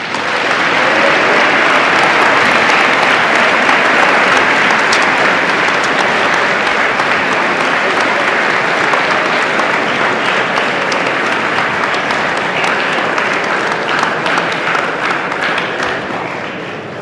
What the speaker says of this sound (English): Please do one more round of applause for our recipients